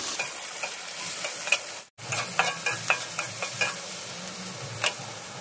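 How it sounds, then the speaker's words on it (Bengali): Salted onions fry in a pan with a constant hiss while a utensil stirs them in short, repeated scraping strokes. A brief gap of silence cuts in early, then the steady sizzle and stirring resume without talk. "পেঁয়াজটা হালকা ব্রাউন করে নেব।"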